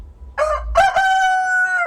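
A rooster crows loudly and close by, one long drawn-out cock-a-doodle-doo with a short clucking start, on a small farm with hens.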